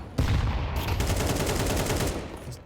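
Rapid automatic gunfire in a Counter-Strike match, a dense sustained burst of shots lasting a couple of seconds, loud and close with no talking over it.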